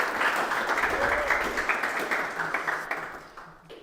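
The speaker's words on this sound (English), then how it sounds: "So a small applause for Aaltra." Audience applause at a Flutter developer meetup in Belgium, a brief round of many clapping hands that fades out at the end.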